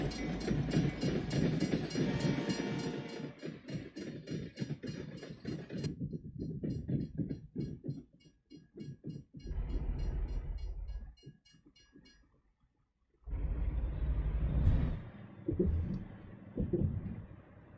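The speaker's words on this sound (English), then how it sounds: "And since there's a train coming by," A train passing in American Truck Simulator: a loud rumbling, clattering rush of railcars with rhythmic wheel clicks that fades in steps, breaks off, then swells back heavily, with no voices.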